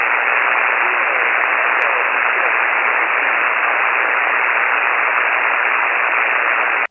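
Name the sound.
amateur radio static noise on a fading band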